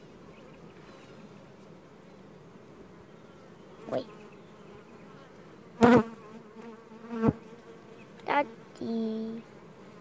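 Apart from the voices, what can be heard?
bee buzzing past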